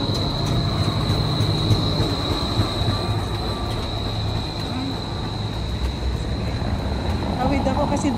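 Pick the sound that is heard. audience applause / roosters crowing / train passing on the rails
train passing on the rails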